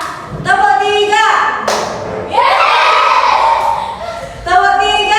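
Children in a primary school class clap out a counted rhythm pattern, heard as a couple of isolated, punchy hand-claps breaking through a teacher's steady spoken instructions.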